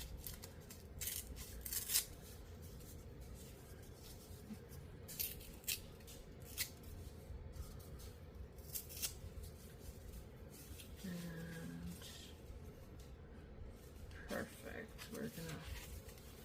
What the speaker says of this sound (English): I'm actually going to tear this one a little bit more just to give it a more worn